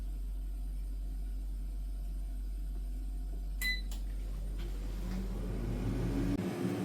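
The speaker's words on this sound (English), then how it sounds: "I'm going to try air frying it for 12 minutes at 190 degrees." An air fryer cooking at 190 degrees for 12 minutes gives a steady, low hum at even loudness, with a couple of short, bright beeps or clicks midway.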